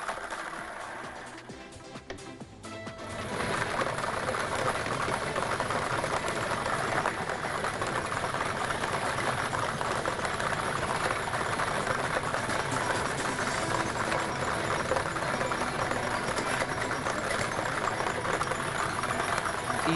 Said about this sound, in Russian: Лототрон ішке чырамыз, ба ойны башлаймыз.